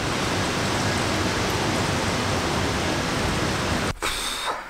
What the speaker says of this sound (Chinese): 今天外面给我下大雨